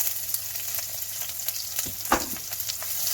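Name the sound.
shallot and ginger frying with whole spices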